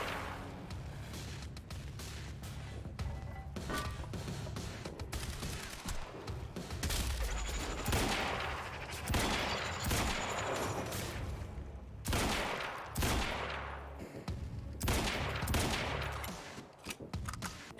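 Rapid gunfire in the Quantum Break shooter game, repeated bursts of automatic shots cracking through the whole stretch, some close and loud, with brief pauses between volleys.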